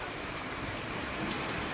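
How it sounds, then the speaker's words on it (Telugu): Heavy rain pours outside a house, a steady, dense broadband hiss of drops on surfaces that holds at a fairly even level throughout, with no voices. "అదిగో చూడండి వర్షం ఎలా పడుతుందో."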